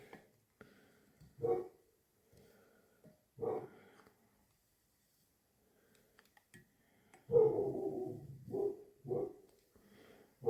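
Several dogs bark indoors in a few short separate bursts, with a louder cluster of barks near the end, in an otherwise quiet room during fly tying at a bench.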